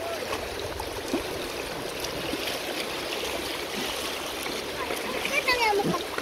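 A child splashing in water outdoors, with continuous watery splashes and trickling throughout, rising at the end, under the voices of people talking nearby.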